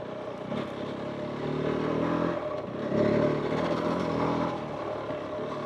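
KOVE 450 Rally adventure motorcycle ridden over rocky terrain, a steady engine drone rising and falling with throttle amid clattering from the rough ground, moderately loud and continuous with no talking.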